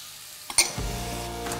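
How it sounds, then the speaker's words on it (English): Onions fry in a pan as a utensil strikes it once sharply, followed by a rising, moderately loud sizzle with stirring noises that continue to the end. "What I'm doing here now is just stirring it around until it becomes a little bit fragrant."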